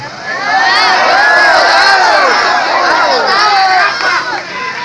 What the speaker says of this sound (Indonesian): Jangan teriak. Ini bukan pasar.